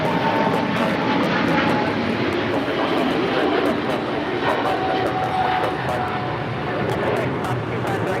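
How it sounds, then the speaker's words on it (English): Cathay Pacific Boeing 777-300ER taking off from LAX on a flight to Hong Kong, a loud steady jet roar that fills the whole stretch with a broad rumbling wash and a faint whine above it. "885 taking off to Hong Kong on the 777-300ER."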